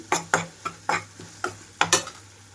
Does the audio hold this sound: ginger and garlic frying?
yes